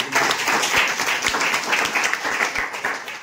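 An audience claps together at a lecture on easing mental stress, a dense, steady patter of many hands lasting throughout, moderately close.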